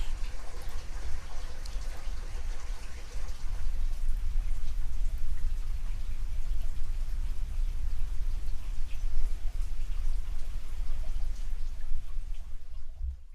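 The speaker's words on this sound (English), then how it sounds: "It's raining." Steady rain pours down, a dense patter of drops drumming on a surface, with a low rumbling undertone throughout and no voices.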